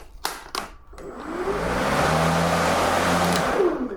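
A few clicks and clunks, then an EGO electric lawn mower spins up indoors into a steady, moderate whir that holds evenly close by.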